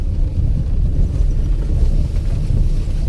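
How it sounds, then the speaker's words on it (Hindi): Vehicle crawling in first gear along a potholed, waterlogged dirt track to a remote village with no paved road, a loud continuous low rumble and buffeting with no voices. "देखिए कितनी मुश्किल से हमारी गाड़ी इस रास्ते से गुजर रही है।"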